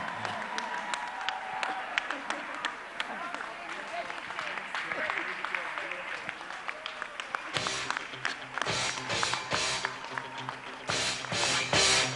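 An audience at the Etisalat Prize for Literature ceremony claps for the award winner Fiston. The applause is steady and dense, with talk running under it, and it swells louder in the second half.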